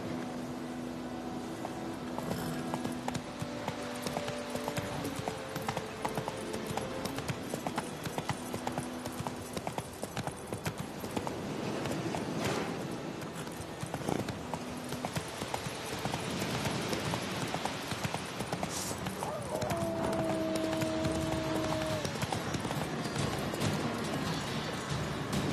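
Roach, a horse in The Witcher 3 video game, clip-clops along in a steady hoof rhythm that runs the whole time over a game ambience bed of wind and music, with no voices.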